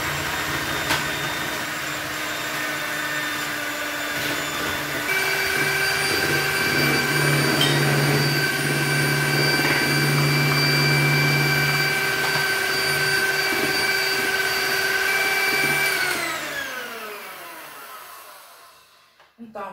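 An electric mixer beats chocolate cake batter as sugar is added, a loud steady whirring drone that rises in pitch, runs continuously and then winds down and stops near the end.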